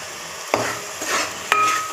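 Onion paste fries in a pan with salt while being stirred, a soft sizzle under two or three sharp scrapes of a spoon against the pan, close and clear with no talking.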